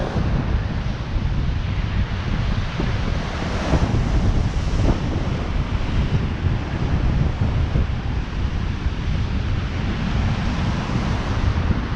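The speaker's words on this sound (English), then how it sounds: "Wind bending them over a little bit as well." Strong wind roars across a stormy Blackpool seafront while heavy sea waves surge and crash, making a steady, loud, unbroken wash of noise with gusty buffeting on the microphone.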